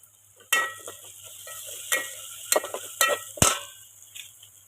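Red chili powder and dal stirred and roasting in a pan for a simple dal rice, with a steady faint sizzle broken by several sharp scraping clinks of a spoon against the vessel.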